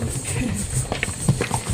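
Horse hooves clip-clop in a few uneven beats on a crowded pilgrimage path to Vaishno Devi, mixed with footsteps and background chatter.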